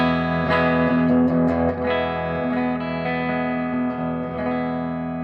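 Clean electric guitar tone through an amp set just shy of breaking up, sustained chords ringing with a warm, slightly edgy character, loud and close, no voices.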